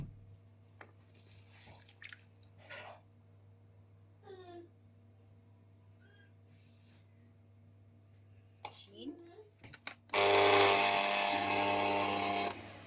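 An electric hand mixer beats sugar and butter together in a bowl, a loud steady broadband whir that kicks in near the end and runs alone after quieter kitchen handling sounds and faint noises.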